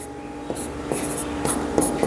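Chalk or marker scratches numbers onto a classroom board in short, repeated strokes, each a brisk squeaky scrape with small pauses between, close and clear over a faint steady hum.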